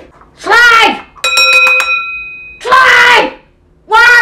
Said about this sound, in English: Quit ringing that damn bell.